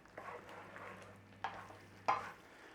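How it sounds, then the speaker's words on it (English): A spoon stirring chicken and leek risotto after lemon zest goes in, soft scraping swirls with a couple of sharper clacks against the pan, faint and close over a low steady hum. "That gets a stir through."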